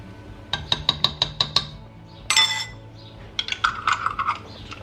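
A metal teaspoon clinks repeatedly against a pot or jar as an ingredient is spooned in for a vegetarian rice dish, a quick run of bright, evenly spaced taps followed by a scrape and more scattered clinks, close and clear.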